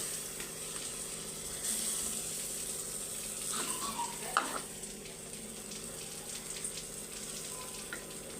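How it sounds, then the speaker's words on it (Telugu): Water is poured into a pan of sizzling flat bean curry, with a steady hiss and frying crackle, a gurgling splash partway through, then continued close sizzling. "అదిగోండి వాటర్ అయితే యాడ్ చేసుకుందాం."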